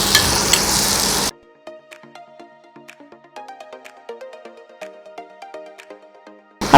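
Yogurt poured into a hot pan with ghee and spices for a green gram biryani, frying with a steady crackle of sharp sizzling pops, close and moderately loud, between two louder bursts of noise at the start and end.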